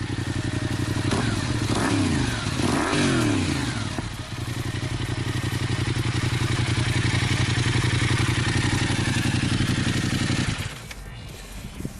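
A Yamaha XSR700 twin-cylinder motorcycle revs loudly up close, its engine climbing in pitch under acceleration and holding a steady, throbbing roar before dropping back to idle near the end.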